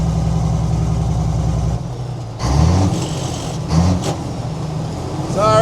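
A 1957 Mack B61 twin-stick truck's engine runs with a deep, steady low rumble up close, then shifts in pitch as it pulls and slows.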